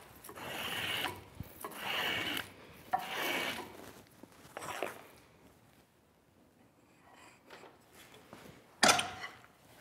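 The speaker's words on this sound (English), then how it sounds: "I switched to a spoke shave because it gives me just a bit more control than the draw knife" A spokeshave shaves a wooden spindle for a sack-back Windsor chair in a series of close, rasping strokes, about four in quick succession, then quieter scraping and a sharp final pass.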